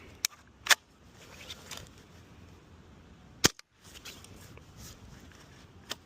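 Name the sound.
AS VAL rifle firing during 3D printed magazine test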